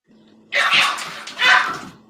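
Dogs sorting out hierarchy in a home, giving two close, loud bursts of barking and growling over a low background hum.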